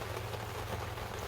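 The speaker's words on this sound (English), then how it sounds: "It's starting to rain even more." Acid rain falls steadily outdoors, a brief continuous patter of drops hitting surfaces, even and fairly close, with no talk.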